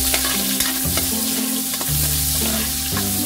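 Garlic, onion and ginger sautéing in hot oil for chicken tinola, a loud steady sizzle close by with the scrape and clatter of stirring throughout.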